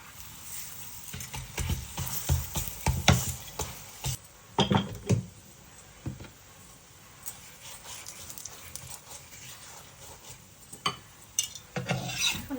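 A lachha paratha is flipped and fried in oil on a pan: sharp clattering knocks of the spatula and pan come in bursts over a soft, low sizzle, with no talking.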